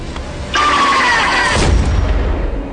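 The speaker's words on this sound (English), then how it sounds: "a single gunshot sparked a war" A single gunshot rings out in a film scene about a fisherman and a sea creature, a loud, booming crack that rolls into a low rumble, set against a dense background of sound.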